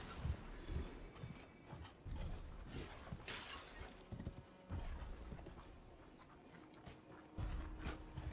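Horse hooves gallop in the video game Elden Ring: Shadow of the Erdtree, an irregular run of quiet clip-clopping footfalls mixed with scattered sharp crashing impacts.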